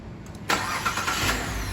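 A car engine cranks briefly and catches after a relay has been replaced, then settles into a steady idle for the rest of the short stretch, fairly close, with no voices.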